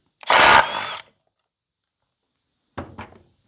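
A power tool, likely an impact driver, gives a loud burst of about a second while removing the flywheel from an Echo CS-800P chainsaw, then after a pause a shorter, quieter buzz follows.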